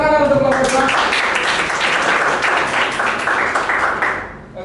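A classroom group of students claps for a presenting group, a brisk burst of many hands that starts after a brief voice, holds fairly loud and close, then tapers off abruptly at the end.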